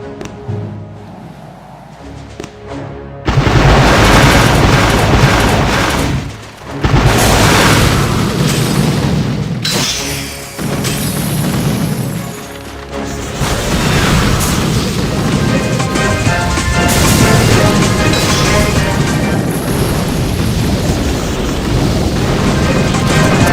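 Rocket launchers blast during an attack in the mobile strategy game Boom Beach, with loud, dense, repeated explosions and booms layered over continuous game sound for the whole stretch, no voices heard.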